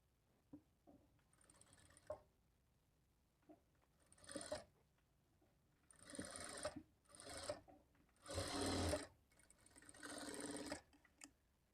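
A sewing machine runs in short, quiet bursts while stitching blouse fabric, each lasting a second or so between brief gaps, faint and close.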